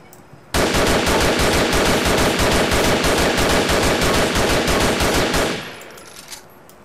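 Rapid, sustained automatic fire from an M4 assault rifle in Grand Theft Auto IV, a loud unbroken burst of evenly spaced shots lasting several seconds before cutting off into a fading echo.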